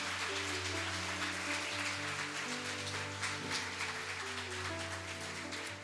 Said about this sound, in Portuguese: Aplauda o Senhor aí bem forte.